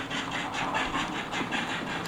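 An Accurascale 57xx model locomotive runs along a track hauling a train, giving a faint, steady mechanical rumble broken by soft, regular rhythmic pulses.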